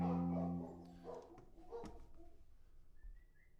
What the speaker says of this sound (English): You guys hear my dogs?